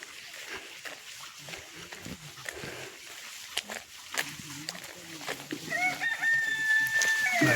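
A rooster crows in Peth, a Konkan-style village near Kothaligad fort in Maharashtra. The call rises clearly toward the end over a low outdoor murmur and scattered voices.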